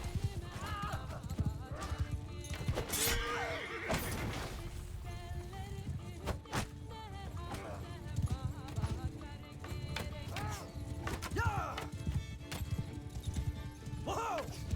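Cavalry horses gallop with layered hoof clip-clops through a Bannerlord battle against bandits, with horse whinnies, clashing combat and shouting voices mixed in a busy, continuous game soundscape.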